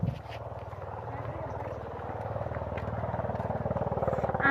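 A motorcycle engine revving loudly and steadily nearby in a rural village, its throbbing drone building in volume over several seconds.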